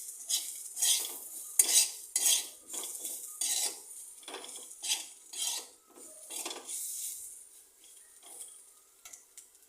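Egg curry masala being stirred in a pan, a spoon scraping and clinking against the metal in quick repeated strokes over a faint sizzle, close and steady with short pauses between bursts.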